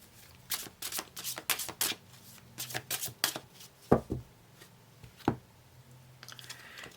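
A deck of cards being shuffled up close in quick, crisp riffling bursts, several in a row with short pauses between, then a few isolated snaps, with no voices.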